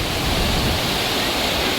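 Water rushes under pressure at Isapur Dam, a loud, continuous roar filling the whole stretch with no break and no voices.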